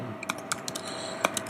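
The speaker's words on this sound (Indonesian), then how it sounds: "ini kalau saya ketikkan show author" Computer keyboard keys are tapped in short, uneven clicks while a MySQL command is typed, close and clear over a faint steady hum, with no voices.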